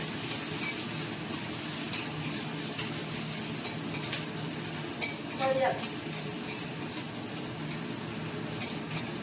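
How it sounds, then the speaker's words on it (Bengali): Onions fry in a pan with a soft continuous sizzle, punctuated by regular scraping and clinking taps of a utensil stirring against the pan, close by and without talk. "একটু ভাজা ভাজা হলে পেঁয়াজটা তারপর ক্যাপসিকামটা দেবো"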